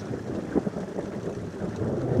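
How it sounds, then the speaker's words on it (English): Wind gusts during a monsoon storm, a steady rushing roar with slight surges, close and fairly loud, with no one talking. "the wind's picking up"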